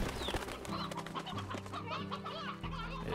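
Several chickens cluck and squawk in the Slime Rancher video game, a busy layer of close calls over a low background music bed, with no voices.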